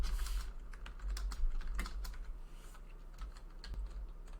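Fingers type on a computer keyboard to enter prices, a quick, irregular run of soft clicks and taps at close range, quiet and without speech.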